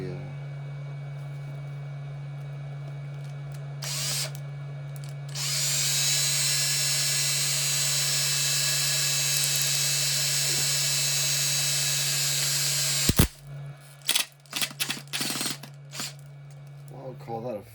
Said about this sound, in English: what's the standard drill bit?